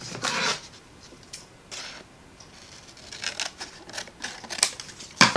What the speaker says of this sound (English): I'm just going to whack it with my scissors